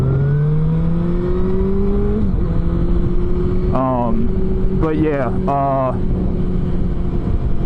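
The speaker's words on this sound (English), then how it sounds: "The exhaust definitely needs to be upgraded because it is not nearly loud enough for me" A motorcycle engine drones steadily through its stock exhaust, its pitch rising and then settling, while someone talks over it in several short bursts.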